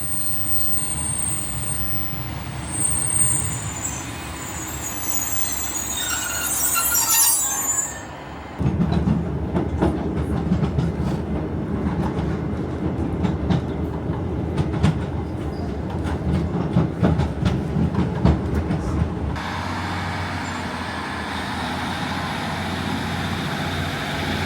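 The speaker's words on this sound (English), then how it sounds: "we are going to be waiting for the 1357 northern service to Manchester Piccadilly" A Northern train to Manchester Piccadilly rolls through Navigation Road station, its low rumble swelling as it arrives, with wheel squeal and rhythmic clickety-clack over the rails before the sound eases to a steady idle.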